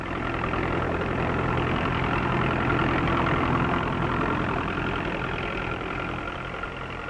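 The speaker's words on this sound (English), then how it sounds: "great tractor-drawn drills sow the seed 26 rows at a time." A 1940s British farm tractor engine drones steadily for several seconds, a dense, constant rumble that fades slightly toward the end.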